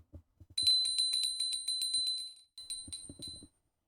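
A school bell rings in a series of rapid metallic strikes to start a mechatronics lab class, with a short pause before a second burst, against faint background knocks.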